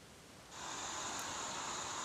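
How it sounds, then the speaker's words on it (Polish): Artificial hiss played from another phone beside a ULANZI J12 wireless microphone during a noise-reduction test; after half a second of near-quiet, a steady, even broadband hiss switches on and holds for the rest of the clip. "Teraz mamy włączony szum."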